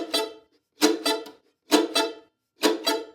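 Four crisp, percussive mandolin chop strums, each cut short right after striking so the notes stop dead, evenly spaced with silence between, close and clear with no talking.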